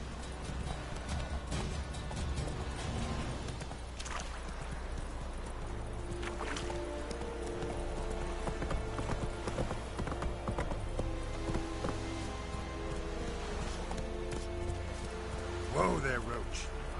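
Roach the horse in The Witcher 3 trots with a steady, close clip-clop of hooves throughout, over a rain-like hiss, with a voice heard at times.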